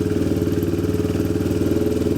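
A restored Honda XR motorcycle single-cylinder engine idles steadily after a kick start, a close, loud, even pulsing thump with a light mechanical clatter and no talking.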